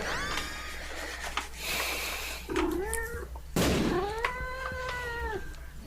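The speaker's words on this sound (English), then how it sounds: "Cat. That sounds a little upset." A cat meows several times, drawn-out and complaining, with a sharp thump partway through over a low background hum.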